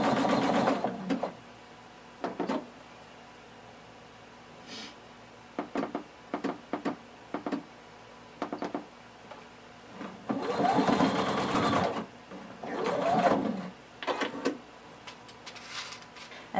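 A sewing machine stitches a pant leg seam about a quarter inch from the edge, running in repeated short bursts and a few longer whirring runs separated by pauses.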